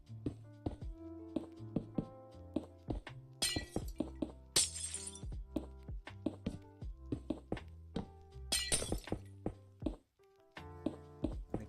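Blocks broken in Minecraft: a string of short tapping hits with several crunchy shattering bursts, like glass breaking, in an uneven rhythm, close and fairly clear, no talk.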